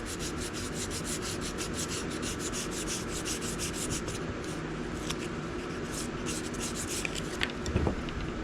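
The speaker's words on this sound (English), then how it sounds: "So now we got to go back to sanding all of this again" A hand-carved wooden wand is sanded by hand in rapid, even back-and-forth rasping strokes, close and continuous, with a few faint knocks near the end.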